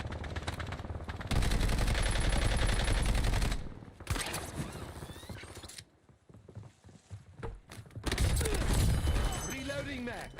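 AN-94 rifle gunfire in the battle royale game Black Ops Royale, loud sustained automatic bursts in close fast rhythm with gaps between them, mixed with mechanical handling sounds and a voice talking over it.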